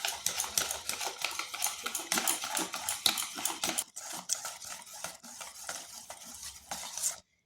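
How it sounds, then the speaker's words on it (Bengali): Eggless sponge cake batter whisked in a steel bowl, a rapid, steady scraping and clinking of whisk against metal, loud and close, with a short pause partway through before the beating resumes. "এটা বেশ কিছুক্ষণ ধরে ফেটিয়ে নিতে হবে।"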